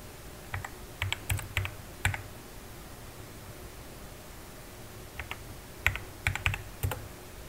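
Typing at a computer keyboard in a terminal to run a Ruby program: two short bursts of crisp key clicks separated by a pause, close and clear over a steady background hiss.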